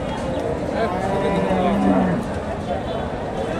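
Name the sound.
cow mooing at a cattle market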